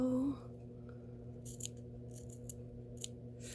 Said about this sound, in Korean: 여기 지금 완성선 표시해둔 부분을 사선으로 잘라주세요